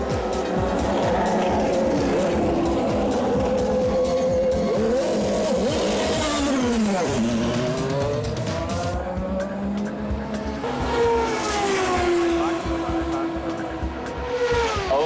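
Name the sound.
race car driving and cornering on track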